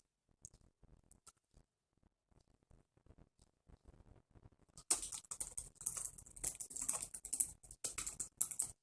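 Someone types on a computer keyboard: sparse, soft key clicks at first, then a louder, faster stretch of continuous typing, heard close and alone.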